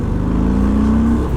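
A Harley-Davidson motorcycle, a 2017 FXDLS or 2019 Fat Bob, roars steadily at close range as its engine revs and pulls hard under acceleration, with a rising tone through the loud rumble.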